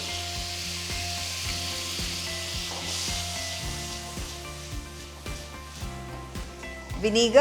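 Soy sauce, tomato sauce and vinegar cook over a high flame with a steady sizzle, beneath background music and a brief spoken word, and the sizzle swells louder near the end.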